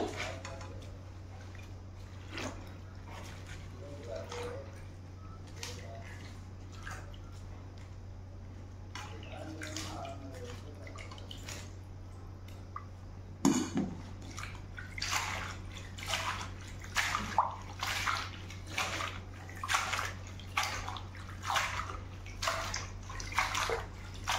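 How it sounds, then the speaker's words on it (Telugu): Toor dal (pigeon pea lentils) being rinsed a third time in a vessel of water, steady sloshing and rhythmic swishing splashes that grow louder and more regular in the second half, close by with a low steady hum underneath. "రెండు సార్లు కందిపప్పు కడిగానండి. ఇది 2 సార్లు కడిగానండి. 3వసారి కూడా కడుగుతున్నాను, ఇసుకగా ఉంటుందని."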